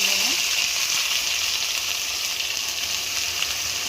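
Ground masala paste for a sandge vegetable curry hits hot oil in a pan and gives a loud, steady, hissing sizzle that barely changes for a few seconds.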